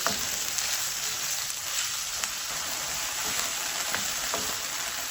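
Ingredients roasting in a pan for a malai boti pizza, a soft continuous sizzle with faint scattered ticks and crackles, heard close and fairly quiet with no talking.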